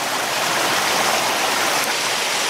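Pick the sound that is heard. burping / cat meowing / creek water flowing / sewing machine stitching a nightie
creek water flowing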